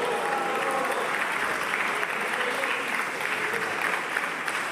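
Members of the French Senate applaud in the chamber, a dense, sustained roll of many hands clapping at once, fairly loud and even in level throughout, with no speech over it.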